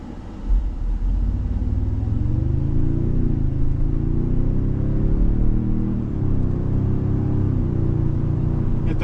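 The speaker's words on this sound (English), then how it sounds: "Get that nice grunt out of the iForce Max engine." A 2025 Toyota Sequoia Limited 4x4 with the iForce Max engine pulls away under acceleration, a steady low grunt and rumble rising in pitch and easing off, heard from inside the cabin without talk.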